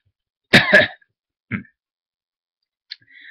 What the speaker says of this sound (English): this coughing is another problem